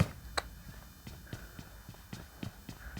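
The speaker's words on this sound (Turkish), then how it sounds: "Vallahi bir yerden ayak sesi duydum." Footsteps in the PUBG Mobile video game, a series of faint, evenly spaced thuds heard under quiet game ambience.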